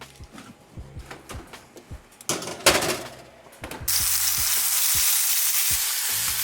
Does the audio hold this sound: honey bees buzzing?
no